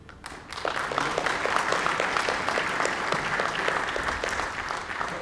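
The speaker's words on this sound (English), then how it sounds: "we need a round of applause for the arrangements" Dense applause from a symposium audience swells in within half a second and holds strong and steady, many hands clapping together at close range, with no talking over it.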